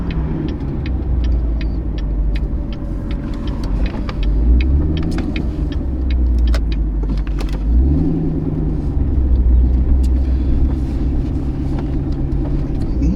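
A Chevrolet Corvette ZR1 creeping along in first gear, its deep throbbing engine rumble loud and close, with low pulsing revs swelling and easing as it rolls slowly.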